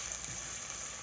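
Onions fry in a pan, cooking toward golden brown, giving off a steady, faint hissing sizzle that stays even throughout the short moment.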